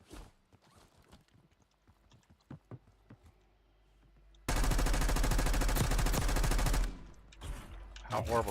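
Heavy gunfire in Call of Duty: Warzone erupts as a dense, loud burst of rapid automatic shots lasting about two seconds, preceded by scattered lighter clicks and thuds, then followed by further shots.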